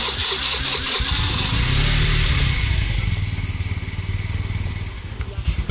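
A rental scooter on Maui starts up after its brake lever is pulled as a safety step, then settles into a steady, close, buzzing idle with a slight rhythmic pulse.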